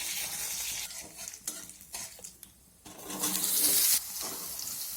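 Cut potatoes drop into hot mustard oil with five-spice tempering and dried chilli, a close frying hiss that dips briefly, then swells into a loud, bright sizzle before settling.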